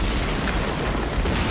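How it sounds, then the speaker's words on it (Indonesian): A landmine explosion in a military drama produces a dense, loud, sustained blast roar that fills the short clip, then cuts off abruptly. "ledakan ranjau di dekatnya"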